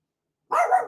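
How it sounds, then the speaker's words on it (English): A pet dog lets out a single short, loud bark close by after a moment of silence, with no talking over it. "That's my dog again."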